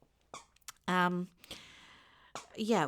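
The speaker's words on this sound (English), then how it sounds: "sorry if you can hear squeaking" A small dog's squeaky toy squeaks in short, bright bursts, one long drawn-out squeak among them, mixed with a voice speaking briefly nearby.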